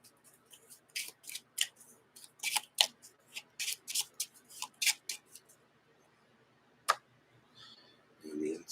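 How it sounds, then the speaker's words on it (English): A Marvel Champions encounter card deck is shuffled on a tabletop in quiet, rapid bursts of crisp card clicks and flutters, with a short pause before a last few soft sounds. "And we shuffle the encounter deck."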